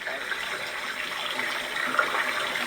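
A toilet flushing in a bathroom, a steady close rush of running water that holds fairly even for the whole stretch.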